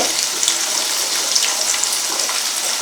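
Fish pieces fry in hot oil in a pan, a dense, steady crackling sizzle heard close and loud throughout, with no talk over it.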